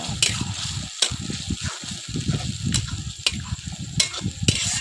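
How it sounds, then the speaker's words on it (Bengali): Spoonfuls of turmeric, coriander powder and salt being stirred into taro-stem (ghetkol) curry in a frying pan, with steady scraping and sizzling, a few sharp utensil clacks against the pan, and a faint background hum. "এবার আমি ভালোভাবে নাড়াচাড়া করে মিশিয়ে নেব"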